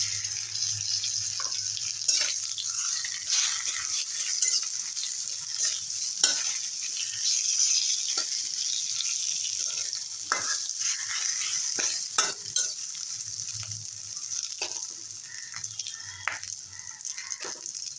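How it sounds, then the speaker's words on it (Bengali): Fish frying in a pan with crushed garlic, a steady sizzle running throughout with scattered stirring scrapes and clicks of a utensil, close and moderately loud with no talking. "মাছটা একটু ভেজে নেবো ভালো করে"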